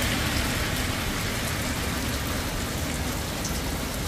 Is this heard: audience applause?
no